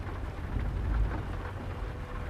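Rain pours in American Truck Simulator while driving a truck, a steady hiss with low rumbling underneath that swells briefly, close and alone.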